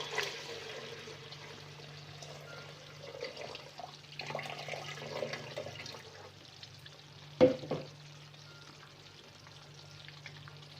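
Water trickles and splashes steadily as it is poured off soaked semolina, with a low hum underneath and one sharp clatter partway through.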